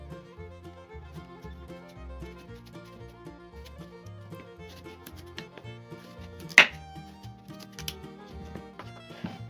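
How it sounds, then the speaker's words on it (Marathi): A knife cuts through a red pumpkin, trimming off its top, giving scattered soft crunches and taps with one sharp crack partway through, close and quiet. "सर्वात आधी गंगाफळाची ही वरची बाजू कापून घ्यायची."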